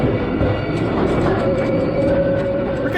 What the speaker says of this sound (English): This is the Swiss Golden Pass Express adjusting its bogies mid-ride.